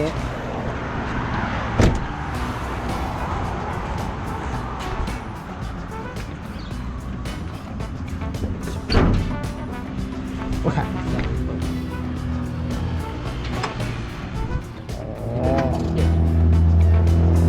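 An old 1990s pickup truck, about thirty years old, with its engine running: a steady low idle with a rhythmic thump, punctuated by a few sharp knocks and clunks, while someone talks nearby.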